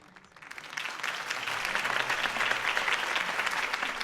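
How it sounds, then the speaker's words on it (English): Sustained applause from a large crowd in the Batman film The Dark Knight, rising quickly after a quiet start and holding steady and loud, a dense wash of clapping hands. "If only Mr. Wayne, my campaign's largest backer, could have heard that applause"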